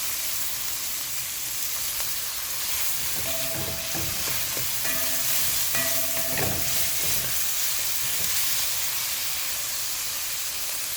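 Fresh garlic sizzles in a pan with curry jackfruit, giving a steady close frying hiss with brief stirring scrapes and clinks partway through, no talk.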